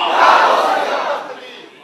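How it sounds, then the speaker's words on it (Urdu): A large crowd at a religious milad gathering in Pakistan roars a slogan in unison, a loud, dense wall of shouting voices that swells and then gradually tapers off. "بلند آواز سے نعرہ تکبیر، نعرہ رسالت، نعرہ تحقیق، نعرہ حیدری، نعرہ غوثیہ"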